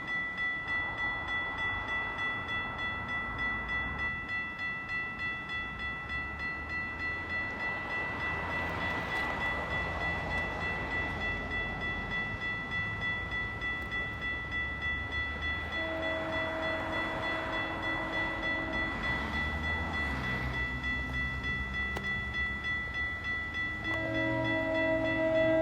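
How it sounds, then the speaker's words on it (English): A GO commuter train led by cab car 336 sounds its horn at a road crossing in Holland Landing, with several loud sustained horn blasts over the rumble of the passing train. "And we have a GO train coming."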